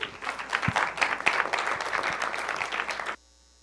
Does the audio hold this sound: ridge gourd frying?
no